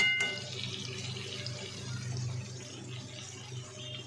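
Running tap water splashes over raw chicken pieces being washed in a kitchen sink, a soft continuous trickle and patter that stays fairly faint throughout.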